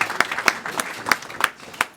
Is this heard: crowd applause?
yes